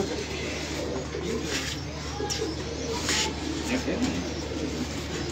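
A pigeon coos nearby in soft, low, repeated calls over a quiet background murmur, with faint voices around it.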